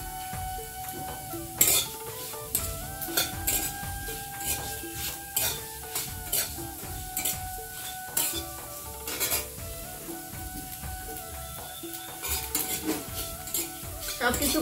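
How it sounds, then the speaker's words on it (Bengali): Cinnamon, cardamom, cloves and nutmeg frying together in a pan, with repeated metallic scrapes and clinks of a spoon stirring against the pan over a light, steady sizzle, close and fairly loud throughout. "দারচিনি, ছোট এলাচ, লং, জায়ফল একসাথে ভেজে নেব।"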